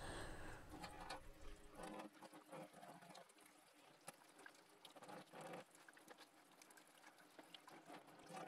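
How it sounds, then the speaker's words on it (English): Water runs and splashes steadily from a tap as a circuit board is rinsed under it, with spattering and trickling sounds that shift as it moves under the stream; no talking. "I'm taking it under the running water"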